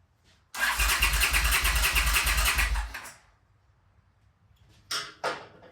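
A 1979 Honda CX500 motorcycle engine cranks loudly with the starter for about two and a half seconds without catching, then falls silent before two short further cranking bursts.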